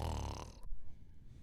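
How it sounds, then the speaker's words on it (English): A person snoring loudly with a deep, rattling inhale, followed by a short pause and a softer breathy exhale nearby. "He's snoring."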